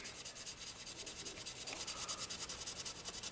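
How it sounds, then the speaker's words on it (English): A 180 grit sanding stick is worked by hand over a classic car's bodywork, giving close, steady back-and-forth rasping strokes in an even rhythm with no talking. "I'm trying to erase the gouge marks of the 180 grit sanding stick."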